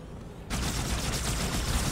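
A dense burst of automatic gunfire from the game Halo 2 starts abruptly and keeps up as steady loud rattling for a couple of seconds, with no voices.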